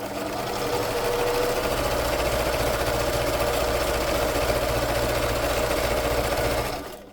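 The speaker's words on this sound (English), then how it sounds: "I would recommend to go over that with a zigzag stitch" Close, steady whirring and rapid needle chatter from a sewing machine running a zigzag stitch to attach lace scraps onto a fabric page tab, running continuously for several seconds before stopping.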